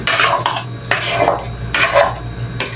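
Spices being mixed by hand in a metal cooking pot: a few loud, scraping, clattering strokes in bursts with short pauses, close by and without speech.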